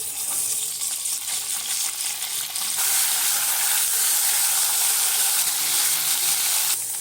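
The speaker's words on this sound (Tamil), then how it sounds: "இதில் வந்து நம்ம பிரண்டையை வதக்கி எடுத்துடலாம்." Pirandai (veld grape) fries in sesame oil in a pan, a steady close sizzle that grows louder and hissier partway through and runs on throughout with no talking.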